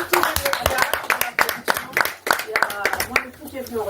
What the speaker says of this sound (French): on applaudit aussi pour vous tous.